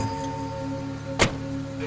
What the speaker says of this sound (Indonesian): Kututup pintu mobil